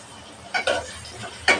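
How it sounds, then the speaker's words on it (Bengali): Sliced onions and green chillies fry in oil in a pan with a soft, close sizzle, broken by a few sharp stirring clicks over about a second and a half. "পেঁয়াজটা ভালোভাবে ভাজা নেব"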